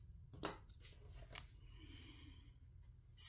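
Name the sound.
biting off a sewing thread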